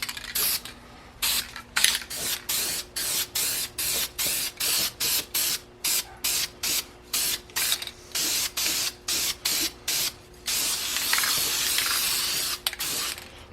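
Primer sprayed onto an engine block from an aerosol can in many short, loud hissing bursts with brief gaps, ending in a longer continuous spray; close by, with no talking.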